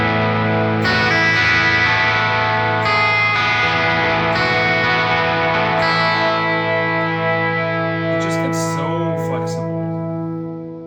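Electric guitar played through a Matchless Chieftain amp model on a Neural DSP Quad Cortex, with Strymon delay and reverb, ringing out in sustained, chiming chords that decay into a trailing echo, close and full with no talking.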